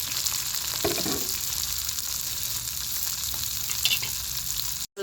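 Country onions frying in oil for village-style egg bhurji, a constant bright hiss and sizzle close by, with a faint stir or two, cut off abruptly near the end.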